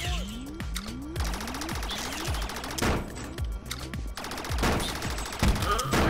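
Rapid gunfire rattles in the virtual-reality game Rec Room, with bursts of automatic shots mixed with sharp synthetic weapon zaps and blasts, loud and close, going on almost without a break.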